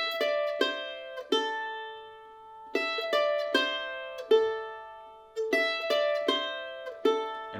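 Bluegrass mandolin picks the Cluck Old Hen lick in crisp, bright single notes with alternating down and up strokes, each pluck ringing briefly before the next. The playing is close and clear, with no voices.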